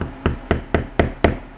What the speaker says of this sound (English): take a screwdriver and just hammer in that tab